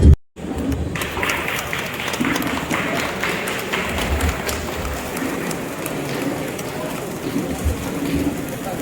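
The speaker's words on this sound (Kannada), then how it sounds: "ದಯವಿಟ್ಟು ಚಪ್ಪಾಳೆ ತಟ್ಟಿ" Audience clapping at a district Congress social justice committee event in Hassan, a steady crackling wash of applause that carries on without pause, with some crowd noise mixed in.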